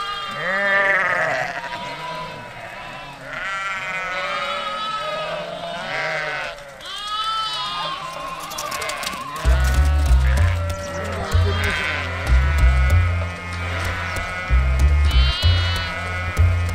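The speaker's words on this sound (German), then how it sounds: "Zwischenstopp zur Vesperpause für die Schafe." A flock of sheep on a trek bleats almost continuously, many overlapping voices near and far, while someone speaks over them partway through.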